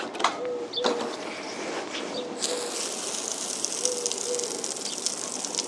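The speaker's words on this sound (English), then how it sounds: "if I pump this up to where it's at, it takes about 4 or 5 pumps" Hand-pumped pressurized shower in a converted bus tiny house sprays water in a steady broadband hiss, with brief clicks and knocks early on and the spray growing brighter and stronger partway through, no talking.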